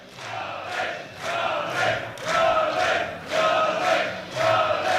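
Strongman deadlift audience cheering and shouting in support of a lifter attempting a heavy pull, swelling in repeated loud waves of roaring voices about every second.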